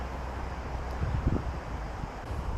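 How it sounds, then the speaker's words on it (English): Strong wind outdoors by a canal, roaring and buffeting the microphone in a continuous low rumble with gusty surges, close and loud with no voices. "That is a hell of a wind."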